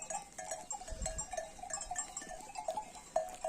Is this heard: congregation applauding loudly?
no